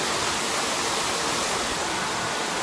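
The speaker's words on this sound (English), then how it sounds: "There's even a waterfall." A waterfall pours into a swimming spot in a steady, loud, unbroken broadband rush close by, with no voices over it.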